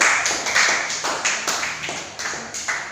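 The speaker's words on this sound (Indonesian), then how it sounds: "Beri tepuk tangan untuk kelompok 1" Classroom applause for group 1, a small group of students clapping in rhythmic, evenly spaced bursts that repeat roughly twice a second, close and fairly loud, with a faint voice underneath.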